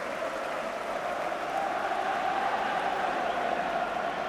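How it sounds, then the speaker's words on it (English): Applause rolls from a football crowd after a home goal for Manchester City against Charlton Athletic, a distant, steady roar of clapping and cheering spread evenly across the stadium. "And listen to the applause."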